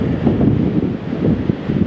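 Wind gusts buffet the microphone at an airport, a steady low rumbling roar with slight surges over a couple of seconds.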